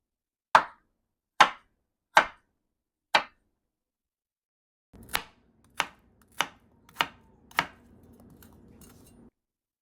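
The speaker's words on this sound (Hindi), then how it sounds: "ये देखें, मैंने इस तरह काट लिए सारे आलूओं को, इतने बड़े-बड़े क्यूब काट लिए।" A knife chops potatoes into small cubes on a board: four sharp, evenly spaced thuds, a short pause, then five quicker chops over faint background noise, close and loud, with no talking.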